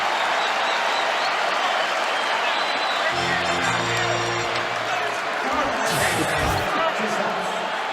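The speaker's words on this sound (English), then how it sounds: "And the crowd getting on its feet, cheering Carmelo Anthony." Crowd noise in a basketball arena during an NBA game between the New York Knicks and the Orlando Magic, a broad steady roar of cheering and applause that swells and stays loud throughout, with brief bright thuds and a commentator's voice over it.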